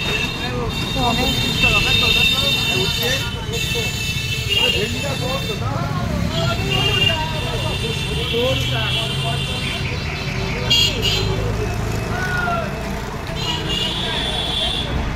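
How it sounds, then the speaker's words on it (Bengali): Busy roadside market with traffic passing: a constant rumble of buses and cars, horns and crowd murmur, with someone talking over it throughout. "এটা রাস্তার পাশে বাজার, এখানে বসে।"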